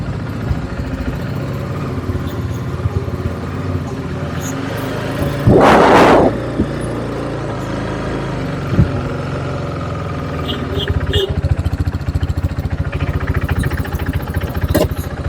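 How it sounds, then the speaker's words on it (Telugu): A KTM RC390 motorcycle, freshly overhauled with its engine cleaned and refitted, runs steadily close by, its engine droning under a louder brief surge of sound midway. "ఇప్పుడు మీరే వినండి ఒకసారి బైక్ సౌండ్ ఎట్లా వస్తుందని."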